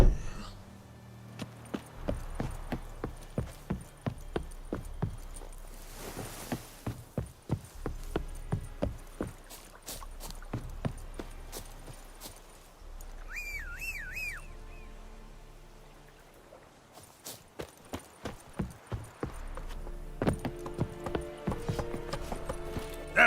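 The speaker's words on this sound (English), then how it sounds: "That's it, Roach." Hooves of the horse Roach in The Witcher 3, a steady rhythmic clip-clop of trotting on hard ground, pausing briefly midway before resuming, with voices speaking at points.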